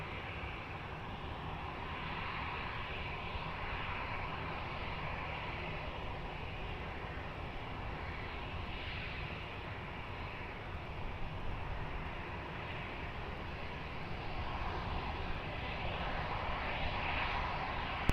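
Airliner taking off at Lisbon Airport, a steady broad engine roar that holds loud and even throughout, swelling slightly near the end, with no voices.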